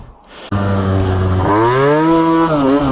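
A scooter engine fires up loudly about half a second in and then revs steadily, its pitch climbing and dipping through gear changes during a ride at night on a dark road.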